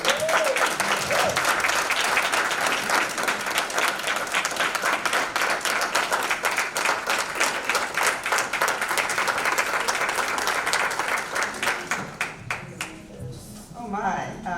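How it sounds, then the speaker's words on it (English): A large audience at a ceremony applauds in a sustained, dense round of clapping for about twelve seconds before it thins and dies away, with voices starting to speak at the end. "Please give a hand of applause."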